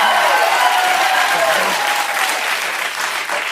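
Audience applause after a jab at Elon Musk during a political speech, a steady dense clapping that fills the whole stretch at close range with no talk over it.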